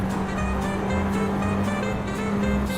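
Race car engine droning steadily in the Assetto Corsa VR sim racing game, a continuous close hum with faint rises and dips suggesting gear changes, no voices.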